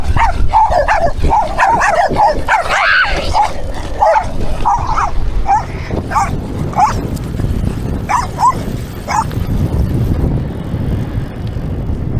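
Puppies near a gate on a rural walking route yap and bark repeatedly at close range, with some whimpering, over a constant rushing background noise.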